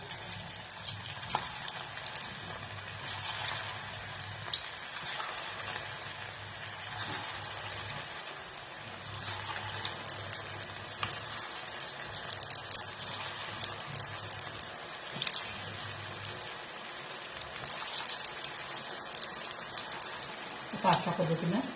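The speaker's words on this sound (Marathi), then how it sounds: "अशा पद्धतीनं हे सगळे तळून घेऊ." French fries frying in hot oil in a home kitchen pan, a steady close sizzle with crackling bursts running throughout, occasional stirring clinks over it.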